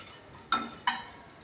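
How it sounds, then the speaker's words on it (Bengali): Cardamom and cloves in hot oil in a pan, a soft sizzle under two sharp stirring clinks of a spoon against the pot, close and brief with no voices. "তেলে দিয়ে দেওয়ার পর আবার আমি এগুলোকে একটু তেলের মধ্যে ভাজা করে নেবো"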